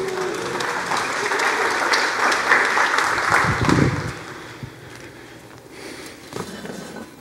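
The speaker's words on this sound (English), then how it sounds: "Can we give Eliana a big round of applause?" Church audience giving a round of applause for baby Eliana, a dense wash of clapping that builds for about four seconds, then thins out and fades with scattered claps.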